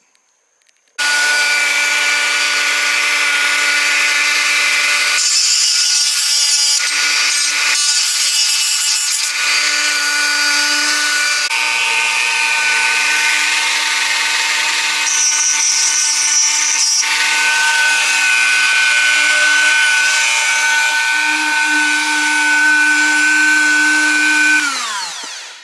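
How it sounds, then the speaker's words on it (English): A bench grinder whines steadily as it takes bulk off a cheap throwaway flat wrench, shaping it into an SU carburetor mixture adjusting tool. The loud grinding runs alone for about 24 seconds, its pitch rising and falling briefly as the metal is pressed in. "I get over to the grinder to take some of this bulk off of here"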